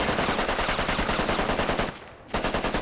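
Automatic rifle fired in rapid sustained bursts in the video game Squad, loud and close, a steady rhythmic stream of shots with a brief pause before firing resumes, no talk.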